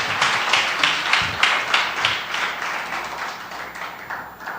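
Church congregation clapping in a steady rush of applause that gradually fades, with no voices over it.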